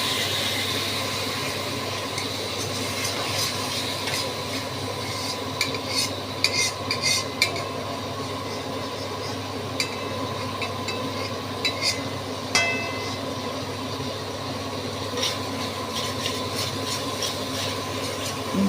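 Spice paste (masala) for a jackfruit curry with prawns sautés over raised gas heat after a splash of water, giving a steady low sizzle with scattered scraping stir clicks, close and continuous with no talking.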